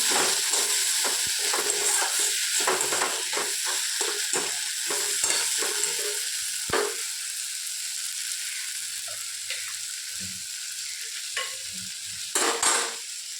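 Fish head being fried and stirred in a pan for dal, a constant bright sizzle punctuated by repeated scraping and clinking of the spatula, loud and close.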